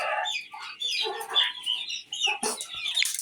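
Brahma chickens cluck and murmur close by in short, overlapping calls, with a sharper squawk near the end.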